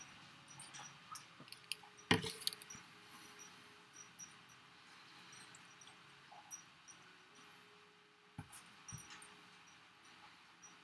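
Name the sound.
dog crunching its food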